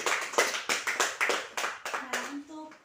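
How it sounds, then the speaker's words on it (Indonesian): Classroom applause for a pupil who answered a question, a short burst of close, distinct hand claps from a small group of children that fades out as a voice begins at the end. "Berikan tepuk tangan untuk Sony."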